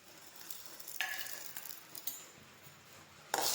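Curry leaves and tomato fry in hot oil for a chutney, giving a quiet, steady sizzle broken by a few sharp crackles and stirring clinks.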